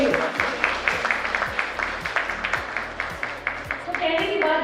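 An audience at a women's empowerment festival claps for themselves in a steady, rhythmic beat. The claps are close and fairly loud, with some voices mixed in.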